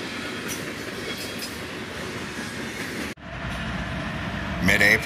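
A BNSF locomotive in Heritage One paint runs with a Delaware, Lackawanna and Western heritage unit, a steady loud rumble of a train passing close by, with a brief dip midway and a rise in wheel noise near the end.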